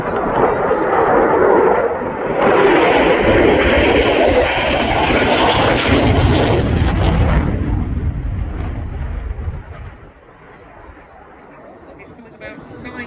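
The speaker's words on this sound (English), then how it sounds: "Nathan accelerates the Typhoon in for his high-speed pass" A Eurofighter Typhoon jet makes a high-speed pass at an airshow, a loud roaring engine swelling into a deep rumbling blast before fading away into the distance.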